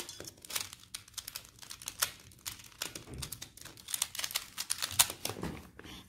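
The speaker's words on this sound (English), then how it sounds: "I'm just gonna randomly shuffle this cube." Rapid plastic clicking and clacking as a small pyramid puzzle cube is twisted over and over, close up, with no talking.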